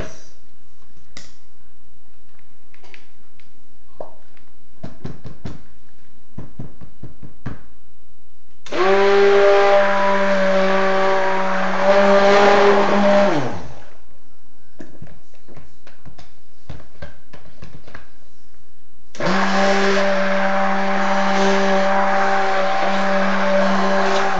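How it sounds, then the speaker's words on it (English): An immersion stick blender whirs through milk soap batter in two loud, steady bursts of several seconds each. Quiet clinks and handling noises fill the gaps between them. "Mix that in, and then I'll go ahead and stick blend it"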